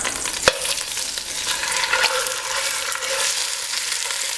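Split chicken breasts browning in a pan, a strong continuous sizzle with a sharp knock as the meat is pressed and shifted, close and steady, with no talking.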